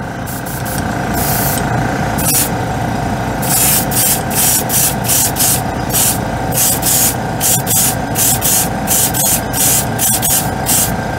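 White scale model paint hissing from an airbrush in repeated short bursts of varying length, each trigger pull giving a bright steady spray over a constant hum of the compressor.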